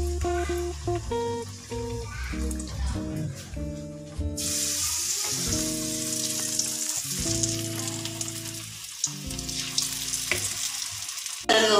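Pieces of ajwain-seasoned dough fry in a pan, turned to brown on both sides. A bright steady sizzle sets in partway through and continues under background music, close and constant.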